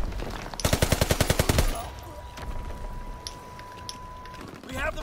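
A Ribeyrolles submachine gun fires in Call of Duty WW2 multiplayer, one rapid, evenly spaced burst of about a dozen loud shots, then quieter scattered game sounds and a faint tone.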